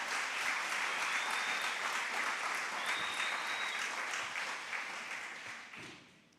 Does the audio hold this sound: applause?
yes